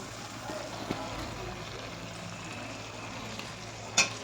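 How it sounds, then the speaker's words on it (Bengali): Ground spices frying in a pan with a splash of water, a steady soft sizzle with faint stirring scrapes and a brief sharper hiss near the end. "সামান্য একটু জল দিলাম, মশলাটা না পোড়ার জন্য একটু জল দিলাম"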